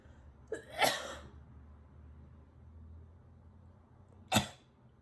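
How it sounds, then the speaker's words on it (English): Two sharp, explosive coughs sound up close, one early and another a few seconds later, with quiet room noise in between. "Having a cough attack."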